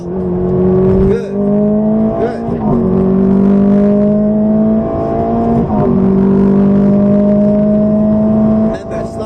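Ferrari F430 engine on Silverstone's International circuit, loud and close, rising in pitch through each gear and dipping sharply at every upshift, repeating several times with cockpit noise.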